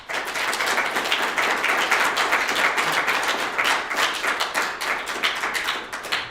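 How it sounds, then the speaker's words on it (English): Warm applause from an audience at a university event welcoming a political candidate, sustained and even crowd clapping throughout, loud and close, without speech. "let's give a warm round of applause for Mr. Qualls."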